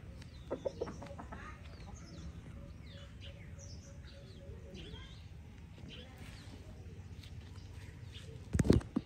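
Chickens clucking softly nearby among faint chirps and background murmur, with a short louder burst of noise at the end.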